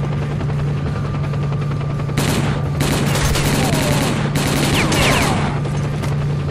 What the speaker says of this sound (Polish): Ja mam do helikoptera strzelać?